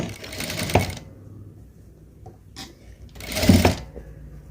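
A sewing machine stitches fabric in two short, close bursts of rapid mechanical whirring, separated by a quiet pause with a brief faint tap.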